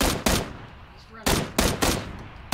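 Gunfire in PlayerUnknown's Battlegrounds, four or five sharp, loud shots spaced irregularly in a few seconds, with a short lull between bursts and no talk over them.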